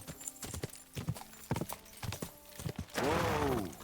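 Horse hooves clip-clop in a rhythmic gait within the video game Kingdom Come Deliverance 2, followed by a loud horse whinny near the end.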